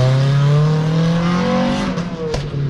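A car engine revs loudly at a French car meet, its pitch climbing steadily and then falling away, close and dominant with no talk over it.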